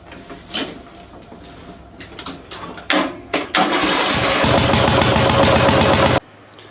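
A lawn mower engine being built into a fast racing mower sputters through a few uneven attempts, then catches and roars loudly and steadily for about three seconds before cutting off abruptly.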